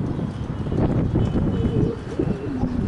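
Pigeons coo softly outdoors in low murmuring calls, with wind and a steady background rumble throughout.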